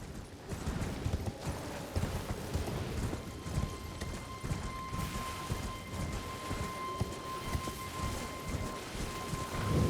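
Rapid, irregular hoofbeats of a galloping horse in Elden Ring pound steadily throughout, dense and close, with a faint tonal hum in the background.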